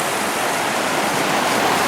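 River water rushing steadily into a pool, a loud, constant broadband wash heard close up, with no voices.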